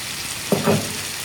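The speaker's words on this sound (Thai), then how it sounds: "จากนั้นก็ผัดทุกอย่างให้เข้ากันค่ะ" Catfish already fried, tossed in a wok with sliced fingerroot, kaffir lime leaves, red chili and basil, giving a short burst of sizzling and stirring scrape, brief and moderately close, with no talk.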